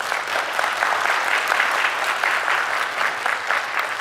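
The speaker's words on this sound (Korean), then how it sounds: "박수 한번 쳐주십시오." Audience applause at a regional public forum in South Korea, a steady dense clapping from a large crowd that holds level throughout with no speech over it.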